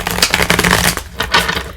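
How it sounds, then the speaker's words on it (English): A brand-new, stiff tarot deck being shuffled up close, loud riffling and flicking in rapid bursts with a short pause before one last flurry, no voice over it. "This deck is also new, so it's a little stiff. It's a little hard to shuffle."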